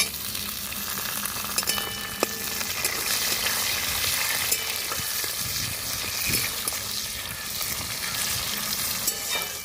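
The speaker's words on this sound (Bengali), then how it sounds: "টমেটো একটু ভাজা ভাজা করে নিয়েছি।" Chopped tomato frying with browned onions in a pan for a village-style goat head curry, a dense steady sizzle with occasional stirring scrapes and clinks, close and continuous.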